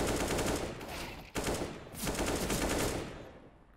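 Rapid automatic AK rifle fire in a Counter-Strike: Global Offensive match comes as two dense, loud bursts of rattling shots with a brief break between them, then fades away.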